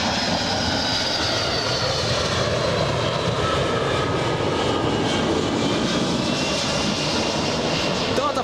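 A Delta Boeing 757-200 jet airliner at Los Angeles International Airport gives off a steady, loud, broad engine roar that holds constant throughout, heard from outdoors at a distance with no talk.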